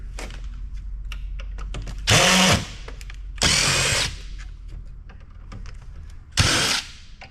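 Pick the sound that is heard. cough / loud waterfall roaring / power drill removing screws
power drill removing screws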